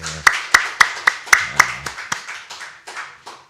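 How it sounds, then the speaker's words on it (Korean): Church congregation clapping in unison, about a dozen sharp, evenly spaced claps in a steady rhythm that gradually softens toward the end, with a brief voice at the start. "우리 하나님 앞에 영광의 박수를 한번 돌리십시다"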